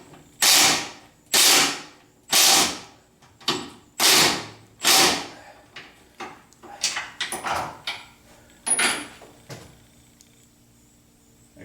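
A socket ratchet tightens a nut under a 1976 Corvette, heard close up as a series of loud rasping clicking strokes, longer at first and then shorter and quicker.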